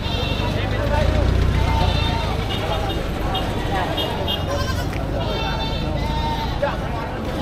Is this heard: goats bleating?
yes